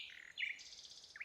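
A nightingale sings short, bright chirping phrases in a forest, with several quick notes rising and falling over about a second and no voices.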